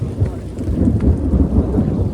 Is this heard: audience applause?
no